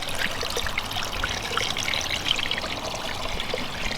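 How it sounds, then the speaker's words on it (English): Water trickling over the liner of a leaking backyard pond waterfall, a steady close splashing and babbling stream with bright dribbles throughout, continuous and moderately loud. "we actually get some water coming over there"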